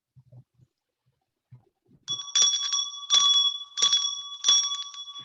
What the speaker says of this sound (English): The sound of the bell rang across the room.